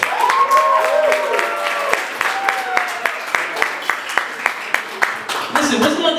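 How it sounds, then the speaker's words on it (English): Audience applause at a speech event, steady clapping from a sizable crowd lasting about six seconds and fading slightly toward the end. "So let's give them a round of applause."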